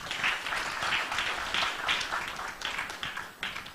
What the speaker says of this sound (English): And please give an applause to my panel.